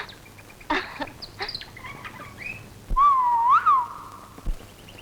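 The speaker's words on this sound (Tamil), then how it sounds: "ஏண்டா இந்த குயில் இனிமையா கூறதை கேட்கும் போது உனக்கு என்ன தோணுது?" Asian koel, a cuckoo, sings a single rising, whistled phrase with a sharp upward flourish, heard alone and fairly close, with a few fainter bird calls before it.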